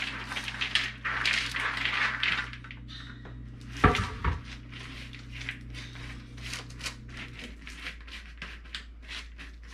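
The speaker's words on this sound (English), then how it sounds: "We'll take our baking sheets and we're just gonna put everything on there." Snack mix is spread onto baking sheets with close rattling and patter of small dry pieces, a brief louder clatter midway, then quieter scattered shuffling, with no talking.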